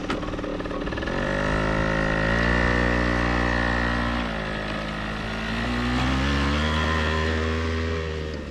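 A moped engine strains while being ridden on a dirt motocross track, its nasal buzzing tone rising and falling steadily with the throttle as it passes close by.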